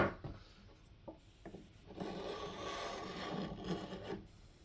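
A cabinet scraper drags across a wooden board, taking off epoxy and glue in steady, raspy strokes that grow longer and louder after a few short scrapes. It is fairly quiet and heard alone.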